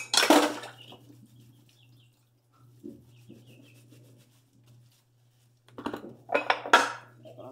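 Washing dishes at a home sink: bursts of clinking pots, plates and cutlery with scraping and rubbing, close and fairly loud, separated by quieter pauses over a low steady hum.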